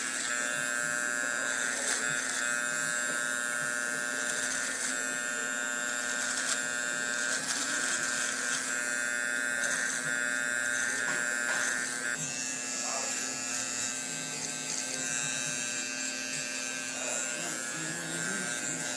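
Electric beard trimmer cutting along the bottom of a beard during a haircut, buzzing steadily and close up for the whole stretch, with its tone shifting slightly as the blade moves.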